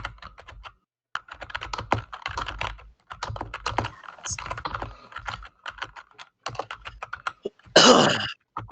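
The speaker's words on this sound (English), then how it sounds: "Don't type angry." Rapid typing on a computer keyboard, bursts of close clicking keystrokes with short pauses, ending in a louder rustle or cough-like noise.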